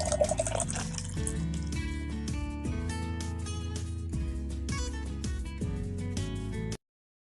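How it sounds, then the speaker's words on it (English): Juice is poured into a serving jug holding ice cubes, a continuous liquid stream heard under steady background music until an abrupt stop near the end. "I have taken here some ice cubes in my serving jug, and I'm going to pour this juice."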